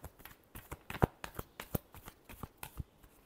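Tarot cards are shuffled close by in a quick series of crisp riffling flicks and soft slaps, a dozen or so irregular snaps in a few seconds with no talk over them.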